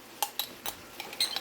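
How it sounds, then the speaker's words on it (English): A metal utensil clinks against a pot while meat and crushed garlic are stirred for a beef stew: a few quick, close taps and scrapes in an irregular rhythm, no talk. "continue to stir fry it until it's all golden brown"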